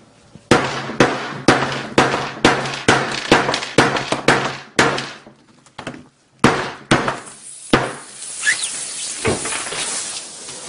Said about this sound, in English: I'm just going to hammer this guy all the way to its death